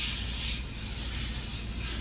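Airbrush spraying paint onto a Harley motorcycle part, a steady close hiss of air and spray running unbroken and fairly loud with no talking.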